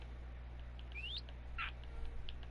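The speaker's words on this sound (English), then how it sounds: "I gotta move the parrots." Parrots in the Minecraft video game let out a single short rising whistle-like call followed by a brief chirp, faint over a low steady background hum.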